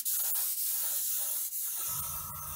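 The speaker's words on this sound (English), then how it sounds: "It is ready to spray, I want to mention, so I just poured it right into my airbrush" Airbrush spraying water-based ChromaAir UV reactive paint for a light first coat, a steady broadband hiss running nearly unbroken through the clip with only brief dips between passes, close and alone.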